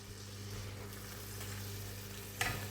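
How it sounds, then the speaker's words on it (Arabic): Tuna frying in a pan with tomatoes, garlic, spices and bay leaf, giving a steady low sizzle throughout, with a sharper clatter of stirring near the end. "ونخليوهم يتقلاو شويه، نخليوهم مليح"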